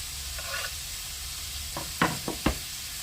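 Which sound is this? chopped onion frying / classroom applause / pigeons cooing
chopped onion frying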